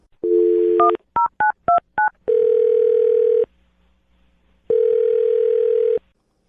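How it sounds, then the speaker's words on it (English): A telephone number is dialed as a quick run of touch-tone beeps, followed by two long steady ringback tones with a pause between, loud and clear with no talking. "I'm dialing his phone number right now."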